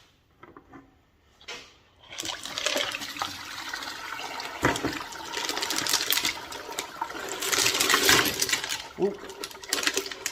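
Rocks and water pour and rattle out of a 12 lb Lortone rock tumbler barrel in a sustained, splashing, clattering wash after a brief quiet start, with a short exclaimed voice near the beginning.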